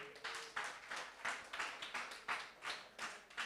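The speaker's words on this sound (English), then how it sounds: "which I think deserves another round of applause" Audience applause at a community creativity evening, a steady run of hand claps with soft, regular surges that carries on alone with no talk over it.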